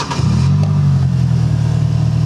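Thoroughbred Stallion motorcycle pulling away for a cruise, a loud steady low engine drone with a slight rev at the start, close by.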